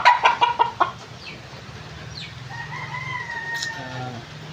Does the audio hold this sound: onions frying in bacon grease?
no